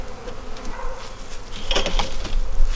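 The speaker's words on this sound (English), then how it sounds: "I've got bees on every single frame here." Honey bees buzz steadily in an open hive with bees covering every frame, a continuous close hum with a brief louder swell partway through.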